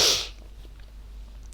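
A single sharp, loud human sneeze bursts at the very start, then fades into quiet room hiss.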